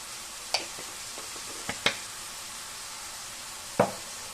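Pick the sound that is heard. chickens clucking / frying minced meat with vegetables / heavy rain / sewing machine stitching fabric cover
frying minced meat with vegetables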